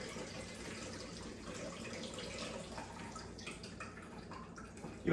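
Shaken vodka martini poured from a shaker into a glass, a soft steady trickle and splash of liquid running for several seconds, fairly quiet, with no talking.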